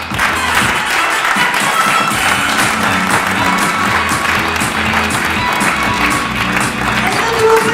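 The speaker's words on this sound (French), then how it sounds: "Applaudissez Christophe." Loud, sustained clapping and cheering from an audience at an improvisational theatre show fills the room for several seconds, with some thumping and crowd noise mixed in.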